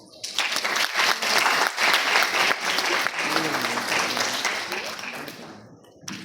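A burst of loud applause from a large audience at a nursing course session, sustained clapping that gradually fades, with a voice briefly at the end.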